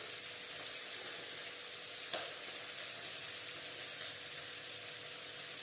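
Curry frying in a pan, a quiet steady sizzle and hiss running throughout with a faint stir or scrape near the middle, no one talking.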